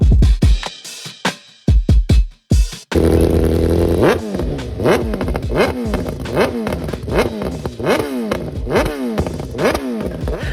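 A few sharp engine blips and revs, then a BMW motorcycle engine runs steadily up close with a rhythmic, pulsing throb.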